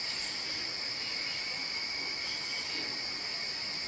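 Night insects, crickets among them, chirp in a quiet hollow under a full moon, making a steady, unbroken high trill that sounds distant and fairly faint.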